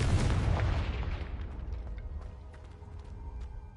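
A Confringo spell explodes in the game Hogwarts Legacy with a loud, deep boom at the start that rolls off into a fading rumble and scattered faint crackles.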